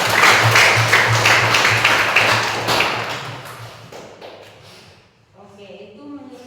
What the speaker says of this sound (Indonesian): Mari kita tepuk tangan.